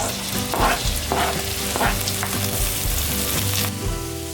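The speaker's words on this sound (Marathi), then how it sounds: "टोमॅटो आपण छान परतून घेऊया" Tomatoes sautéing with onions in a pan for dal khichdi, a loud close sizzle that runs steadily, with bursts of stirring scrapes.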